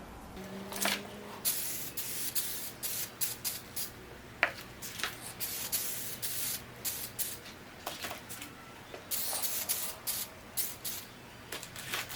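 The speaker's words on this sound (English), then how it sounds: "I'm going to get the adhesion promoter and I'm going to start spraying the panels." Repeated short bursts of adhesion promoter sprayed from an aerosol can onto interior trim panels, each a brief hiss with pauses between, close by and fairly quiet.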